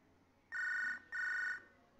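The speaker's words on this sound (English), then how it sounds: "is the phone ringing?" Two electronic telephone rings, each about half a second long with a short gap between them, sound in the prison video game Hard Time over a faint quiet background.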